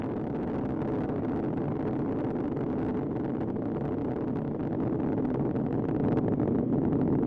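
Space Shuttle Atlantis' three main engines, throttled down during launch, give a steady, dense, low roar that rumbles on without a break for several seconds, with no voices.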